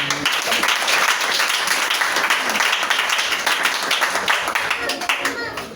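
A church congregation bursts into sustained applause, dense clapping from many hands filling the room at close range, with voices calling out over it.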